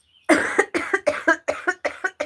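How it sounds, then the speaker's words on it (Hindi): A person coughs in a rapid fit of about eight harsh, evenly spaced bursts, close and loud, each bark ending in a short catch. "खांसी चालू हो जाएगी तो बंद भी नहीं होगी"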